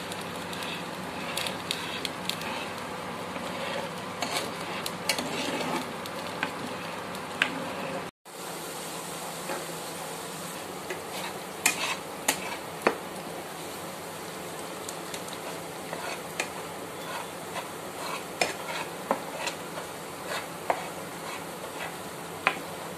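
Coconut milk boils down to make coconut oil, giving a steady bubbling, crackling simmer close up, with occasional stirring clicks throughout.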